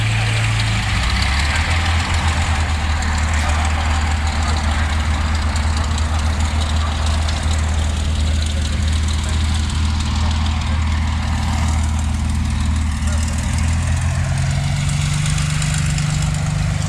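A Citroen Traction Avant's engine idles steadily at an airshow, a low even rumble running throughout with a slight rise in pitch near the end.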